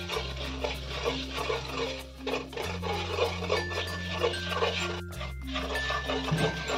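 Flour being stirred into fried garlic in a pan, a soft scraping stir under a low sizzle, with steady background music tones throughout.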